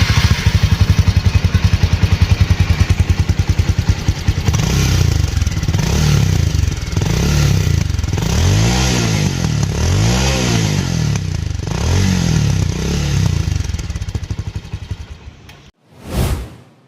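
A Bajaj Avenger 220 motorcycle, eleven years old, idles with a rough, throbbing exhaust note, then revs repeatedly in rising and falling surges before cutting off with a brief rattle.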